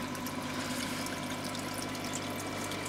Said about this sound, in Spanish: en este momento tiene el nivel bajo ahora le voy a agregar agua justamente